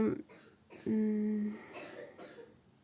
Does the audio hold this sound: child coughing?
yes